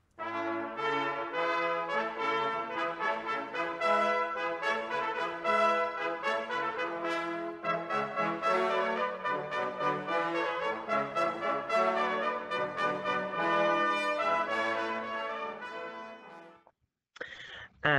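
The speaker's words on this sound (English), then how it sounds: "First, we've got the trumpet," A trumpet plays a bright, continuous melodic line of quick successive notes rich in harmonics, loud and close, cut off abruptly near the end; no talking.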